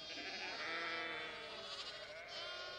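Baby lambs on a farm bleat in a tremulous, wavering cry that runs nearly continuously, fairly close, with a second call rising near the end.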